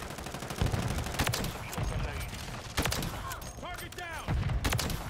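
Rapid gunfire from a Sniper Elite video game, with sharp repeated shots and bursts crackling throughout alongside game effects and chirps, loud and dense.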